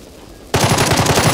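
After a brief quiet moment, a loud burst of rapid automatic gunfire erupts and continues steadily, weapon fire in the video game Jagged Alliance 3.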